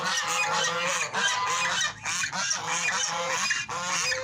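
A flock of Muscovy ducks in a converted pen calls loudly and continuously, a dense layered chorus of harsh honking cries that fills the whole stretch without pause.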